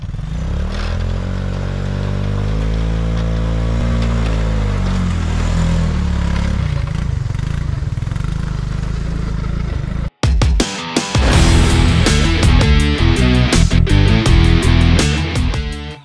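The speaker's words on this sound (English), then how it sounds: "Drag it to the garage with the King Quad." A Suzuki King Quad ATV drags a John Deere Trailfire 340 snowmobile toward a garage, the engine droning loud and close under steady load, then a sudden cut to rougher, clattering engine noise with scraping.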